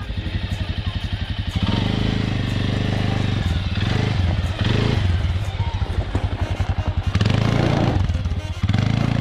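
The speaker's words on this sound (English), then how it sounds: "totally loving the ATV ride experience" An ATV engine runs steadily throughout a resort trail ride, its close, loud mid-pitched drone rising and falling with throttle changes and rough clattering bursts.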